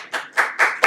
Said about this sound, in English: Please hold your applause to the actors.